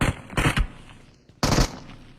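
Bursts of gunfire from a retro video game, a couple of quick close rattling volleys, a pause, then another loud burst, with no talking over them.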